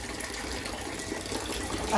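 A Kangen water machine runs its self-cleaning cycle, with a steady, close rush of flowing water holding an even level throughout.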